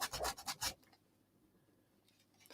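Sandpaper rubbed over the body of a Harley Benton ST guitar kit, a close, loud rasping scrub of five quick strokes in the first moment, then near silence.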